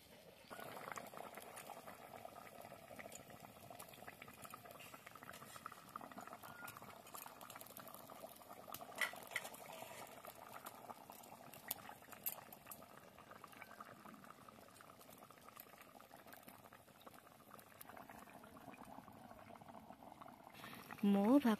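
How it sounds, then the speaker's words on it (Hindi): Water bubbling at a steady boil in a cooking pot with potatoes, a fairly quiet continuous simmering hiss with small pops throughout, a voice speaking faintly in the background. "पानी मध्य फुटी आसिलानी।"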